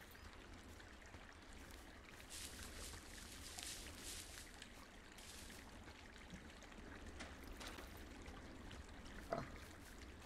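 A creek flowing in the Firewatch video game, a faint continuous trickling and babbling stream with soft splashes, distant and steady throughout.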